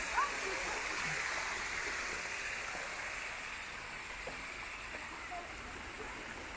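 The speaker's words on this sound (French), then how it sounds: "La cascade descend là." A small waterfall cascade in the Jura pours in a steady broadband rush, close and continuous, with faint murmuring voices beneath the water.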